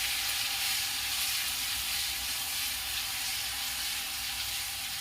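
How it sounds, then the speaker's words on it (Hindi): Ginger and crushed garlic paste frying over a low flame in a pan, a soft, steady hiss of gentle sizzling that stays faint and even throughout, with no voices. "लो फ्लेम पर ही भूनूंगी।"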